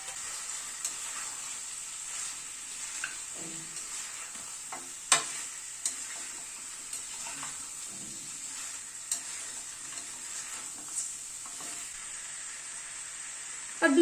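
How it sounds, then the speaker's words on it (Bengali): Mutton and potato pieces being stirred and fried in a pan, a steady close sizzle with intermittent scraping clicks of the spoon throughout, no talking. "আর 2-4 মিনিট একটুখানি কষিয়ে নিচ্ছি"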